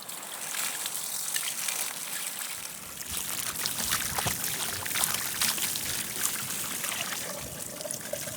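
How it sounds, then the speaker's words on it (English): Running water pours and splashes steadily over a whole ostrich carcass during washing, a continuous trickling stream that grows louder and more spattery after the first few seconds. "let's give it a thorough wash, making sure it's completely clean from the outside and inside"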